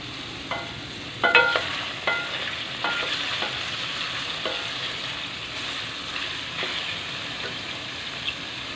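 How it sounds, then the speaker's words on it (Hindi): Peeled potatoes frying in oil until golden brown, a dense steady sizzle broken by several sharp clinks and scrapes of a stirring utensil, close and without speech. "जैसे ये गोल्डन मतलब फ्राई हो जाएंगे गोल्डन ब्राउन, तो हम इसको निकाल लेंगे।"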